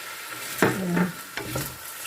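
Chicken biryani sizzles as it is stirred in a pan, with a couple of brief scraping stir strokes over a soft, steady frying hiss.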